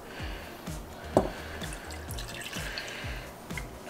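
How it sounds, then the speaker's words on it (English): Milk, about a cup and a quarter, is poured over a dark chocolate cocoa bomb, a steady liquid stream with rhythmic glugging pulses and a few small splashes, close and moderately loud. "1¼ cup of milk. And I'm gonna pour it on."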